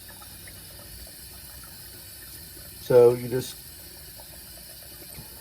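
Water squeezed by hand from a pouch in homemade Italian sausage casing, a brief wet squelch and splash under a half-second, close and distinct against a quiet room, with someone talking around it.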